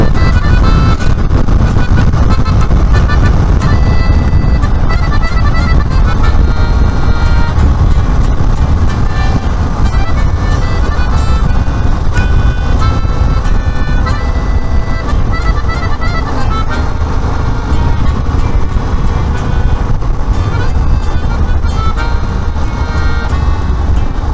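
A car drives along the road through Patratu Valley on a road trip, its engine and tyre roar loud and steady throughout, with a horn tooting now and then and no one speaking.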